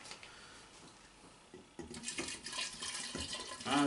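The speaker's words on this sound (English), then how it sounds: "What I'm going to do now is add some soy sauce." Soy sauce is poured into a bowl of venison jerky mixture, a thin liquid splash and trickle that starts faintly, then grows louder and more irregular up close.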